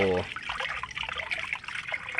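Tap water trickles steadily from a faucet in Pampanga as it fills a backyard guppy pond, a continuous close splashing flow with a brief low hum at the start.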